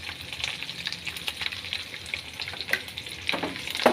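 Coriander powder hits spices frying in a pan, giving a moderate, uneven sizzle with occasional scraping and clinking of a stirring spoon, close and without talk.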